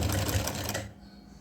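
A sewing machine stitches lace onto a small Laddu Gopal dress, running in a fast, close mechanical rattle for about a second before it stops and leaves a faint quiet tail.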